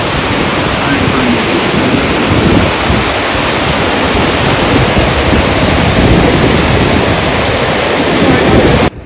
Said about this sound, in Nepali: अन्नपूर्णबाट हिउँ पग्लेर आएको पानी